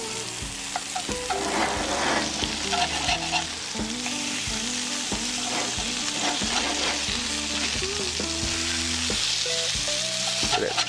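Freshly flipped sausages sizzle hard in a hot pan, a constant close crackle broken by utensil taps and scrapes against the pan at irregular intervals.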